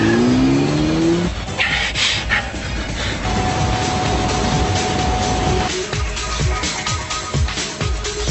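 A car drives fast through city traffic in an anime, engine roaring close and loud with a rising whine at the start, then a sustained rushing drone, tire noise and a tonal hum.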